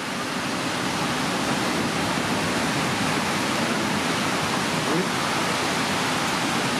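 Sea waves wash along the beach at Bat Yam in a steady, broad surf roar, close and loud, with no distinct breaks standing out and a faint voice barely present beneath.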